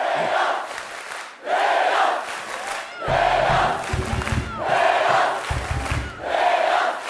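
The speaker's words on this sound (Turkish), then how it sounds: "Bu alkışları, bu alkışları..." A television studio audience in Turkey claps and cheers in rhythmic swelling waves, loud and close, each burst rising and dipping for several seconds with no clear talking over it.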